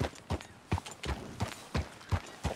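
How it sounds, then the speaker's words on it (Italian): Horse hooves clip-clop in Red Dead Redemption 2, a steady series of about eight sharp, evenly spaced footfalls at close range, with no talk over them. "Intanto, guardate, il cavallo è lì davanti, eh."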